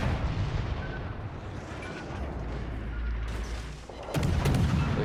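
Warship gunfire from a Shimakaze destroyer in World of Warships Legends, heavy booming blasts rolling under continuous battle noise, with a loud fresh salvo bursting near the end.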